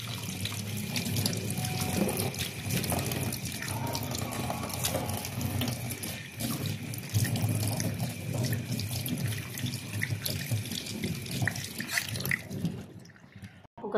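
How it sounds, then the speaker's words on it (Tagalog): Lemongrass stalks washed under a steadily running kitchen tap, water splashing continuously into a sink for about thirteen seconds before cutting off, loud and close with no talking. "hugasan na pa natin yung tanglad"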